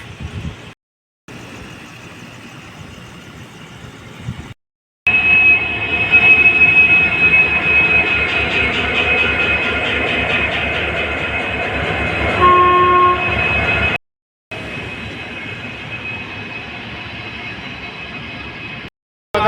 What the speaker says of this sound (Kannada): ನಮ್ಮ ಟ್ರೈನ್ ಬಂತು ಅರಸೀಕೆರೆಗೆ ರೀಚ್ ಆಯಿತು